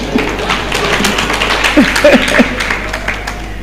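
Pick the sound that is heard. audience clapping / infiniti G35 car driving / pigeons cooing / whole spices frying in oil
audience clapping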